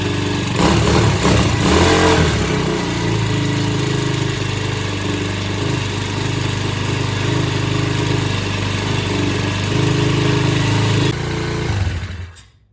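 A SYXMoto VK 58cc kids dirt bike engine runs with its exhaust pipe, a buzzy single-cylinder drone that revs briefly at first, then holds a steady idle before dying away.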